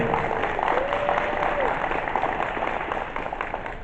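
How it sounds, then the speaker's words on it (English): Steady crowd applause for an orchestra at a law information night, a dense wash of clapping that holds throughout and fades slightly toward the end. "let's give one more round of applause to our incredible orchestra."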